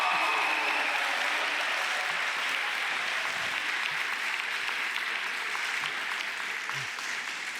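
Sustained audience applause for Mario Centeno at the Young Factor Europe project announcement, a dense, steady wash of many hands clapping that continues unbroken and fairly loud throughout, with no talk over it.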